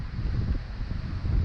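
Gale-force wind gusting across a sailboat on Lake Michigan, a loud continuous roar buffeting the microphone with rumbling low gusts and no voices.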